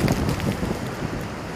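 Strong, steady wind gusts from Storm Chandra roar across an exposed microphone, a constant loud buffeting rumble with no speech.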